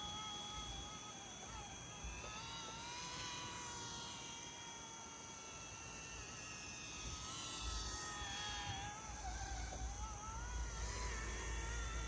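A small toy Hero Copter helicopter flying close by, its steady high-pitched rotor whine rising and falling in pitch as it maneuvers, continuous throughout with a low rumble underneath.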